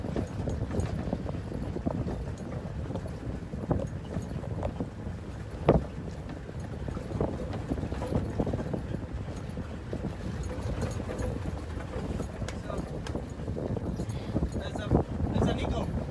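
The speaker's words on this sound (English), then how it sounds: "A little bit windy up here because it's a bit open." Steady wind rumbles and buffets across the microphone in open country, with a few faint thumps and clicks scattered through the gusty noise.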